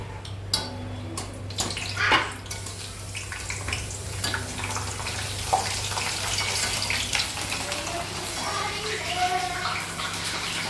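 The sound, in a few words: bhungla snacks frying in hot oil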